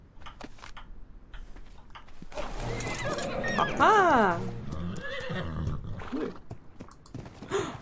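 A horse neighs in the ARK video game, a rising and falling whinny in the middle of the clip with soft hoof clatter around it, while someone talks briefly over it.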